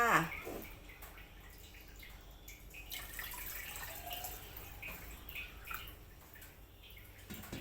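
Water poured into a container holding a variegated pothos cutting grown in water, starting with a brief louder splash and then settling into a soft, steady trickle and drip nearby.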